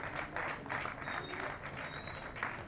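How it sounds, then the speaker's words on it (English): An audience at an NPP press conference claps steadily in a fairly faint, continuous patter that swells in a few waves, heard from a distance with no one speaking over it. "If you can give them a round of applause"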